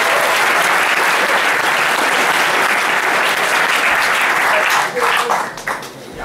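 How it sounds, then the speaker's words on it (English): A conference audience gives loud, sustained applause that fades out near the end as a voice starts to speak. "a huge round of applause"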